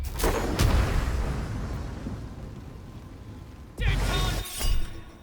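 A Shatter spell cast in Baldur's Gate III bursts out as loud, close thunderous cracks with a crystalline ring, two quick blasts early, a long fading rumble, then another pair of booming shattering hits near the end.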